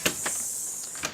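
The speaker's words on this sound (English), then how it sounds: "hopefully, the door unlocks" Kwikset Z-Wave smart deadbolt retracting its bolt: a short click, then a steady motorized whir lasting about a second, ending in another sharp click, close and clear with no talking.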